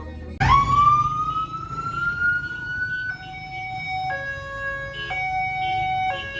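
Ambulance siren sounding in a town street in Colombia, announcing a children's procession: a loud rising wail that settles into a steady two-tone alternating pattern, close by over street background noise.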